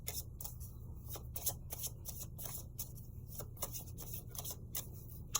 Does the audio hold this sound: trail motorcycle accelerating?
no